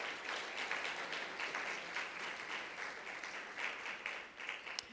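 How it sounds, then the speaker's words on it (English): An audience at an afternoon conference session applauds for Rodney, a moderate, steady wash of clapping that carries on for several seconds and sounds slightly distant. "Let's give Rodney a round of applause."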